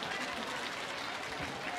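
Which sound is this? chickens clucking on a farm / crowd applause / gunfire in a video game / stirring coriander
crowd applause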